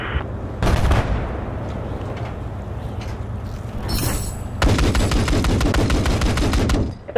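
Machine gun fire in the Battlefield 4 video game, with sustained rapid automatic bursts that get louder in the second half, plus scattered shots and explosions on a busy battlefield.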